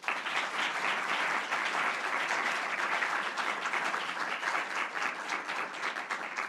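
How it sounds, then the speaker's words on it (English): Steady audience applause for the finalists at a moot court final, even and moderately loud throughout with no talk over it. "Please give our finalists a round of applause."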